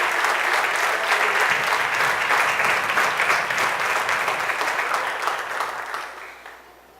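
A congregation applauding during a Sunday evening church service, steady crowded clapping that holds strong before fading out toward the end.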